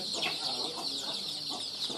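A flock of chickens kept below a bird-keeping area, clucking in soft irregular bursts under a constant high insect or bird drone, somewhat distant and faint.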